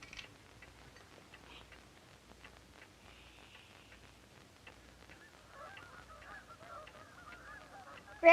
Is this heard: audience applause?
no